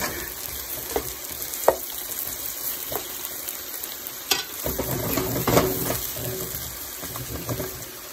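Food is stirred as it fries in a pan at home, giving a steady close sizzle with occasional soft scrapes and clinks and no talking.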